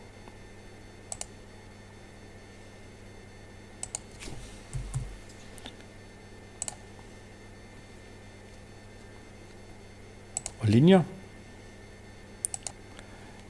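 Keys tapped on a computer keyboard while entering an order line for a Lenovo ThinkPad in accounting software, with sparse, quiet clicks in small clusters over a low steady hum.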